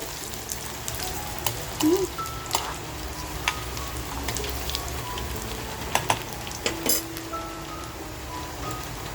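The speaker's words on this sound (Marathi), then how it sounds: "लसूण जे आपण मोठी कापून घेतली आहे ती टाकून घेऊया. आता हे आपल्याला करपवून द्यायचं नाहीये." Large-cut garlic and ginger drop into hot oil for frying bombil manchurian, a soft steady sizzle with scattered crackles and light stirring clicks, fairly quiet and close.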